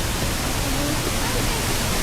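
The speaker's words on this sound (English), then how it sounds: "Aaron, what do you think of that waterfall" Savage Falls in Tennessee rushes as a loud, unbroken broadband roar of falling water, heard close up and constant throughout.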